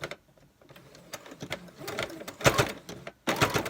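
Sewing machine stitching the seam of a fabric tissue-box cover, where the layers grow thick near the end of the seam; uneven bursts of needle whirring, louder near the end, with pauses between runs.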